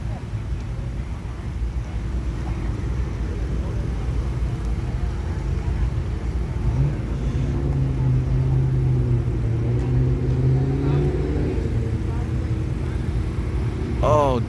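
A McLaren sports car's engine at an outdoor car show, heard as a steady low rumble that swells slightly midway, mixed with crowd noise and nearby chatter throughout.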